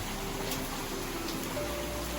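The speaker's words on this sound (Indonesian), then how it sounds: "Sebenarnya sih masih gerimis, rintik-rintik" Light drizzle keeps falling just after an extreme heavy downpour, outdoors where koi are kept, making a steady, soft, even hiss of fine rain throughout with no voices.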